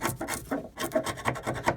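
A tool scrapes material off near the seat belt mounting brackets of a Land Rover Discovery 2, a series of short, close rasping strokes in uneven rhythm.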